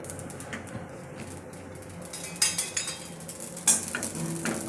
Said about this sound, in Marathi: हे मसाले भाजून घेणार आहे ते खसखस भाजून घेणार आहे